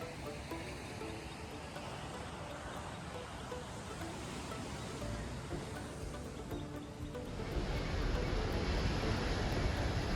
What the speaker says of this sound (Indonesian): Dan ombaknya sebenarnya kenceng kalau nggak kepecah sama karang-karang di depan itu tuh.